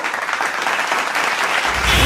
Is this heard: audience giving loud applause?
yes